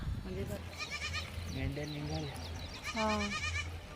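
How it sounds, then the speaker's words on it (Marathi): A flock of sheep setting off bleat in overlapping, wavering calls, with a louder bleat near the end, over steady outdoor noise and some background voices. "मेंढ्या आता निघालेल्या आहेत"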